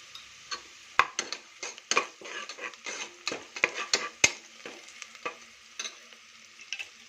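Spinach pulao masala with turmeric stirred and roasting in a pan: soft sizzle under repeated sharp scrapes and clinks of a spatula against the metal, close and irregular, with no talking.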